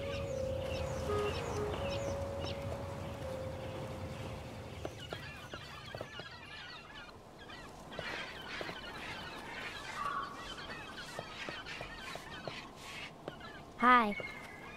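Birds in the video game Broken Age give honking, goose-like calls in scattered repeated bursts, louder toward the end, with a character's speech and background game tones in between.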